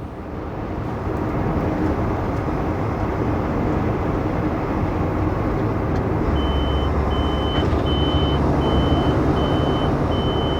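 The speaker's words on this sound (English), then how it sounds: "If you can hear the sound beeping, that's a green light." Steady electronic beeping signalling a green light repeats at an even pace over a loud, continuous engine and road rumble inside a moving truck in the Smoky Mountains.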